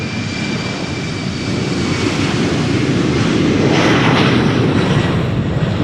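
Airliner taking off at Amsterdam Schiphol Airport, a loud, steady engine roar heard close up, swelling slightly as it goes on, with no talk over it.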